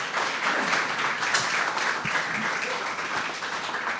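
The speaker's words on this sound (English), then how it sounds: "let's give them a round of applause" Audience applause at a live cooking competition event, a steady wash of clapping from a crowd that holds evenly for the whole stretch without any talking.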